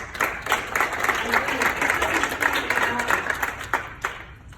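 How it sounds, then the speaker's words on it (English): Applause from an audience at a WAM charity event, a dense, steady wash of many hands clapping close by that holds for several seconds, with a few sharper claps breaking through near the end. "Give yourself an applause."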